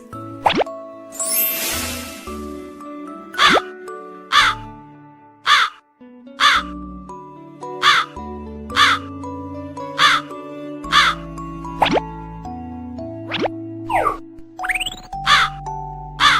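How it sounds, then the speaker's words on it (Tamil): A crow caws again and again in a steady rhythm, about a dozen loud harsh calls, over a light tinkling musical backing with plopping accents. "காக்கை கரையும்."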